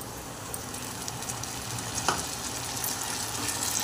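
Onion frying with spices in a pan: a dense, continuous sizzle and crackle that stays fairly loud throughout, with a single sharper scrape of stirring near the middle.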